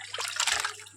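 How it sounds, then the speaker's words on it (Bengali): Cooked goat meat curry poured out of a pressure cooker, a short wet glugging slosh of thick liquid spilling close by, rising and fading within a second. "দেখুন খাসির মাংসটা ঢেলে নিলাম"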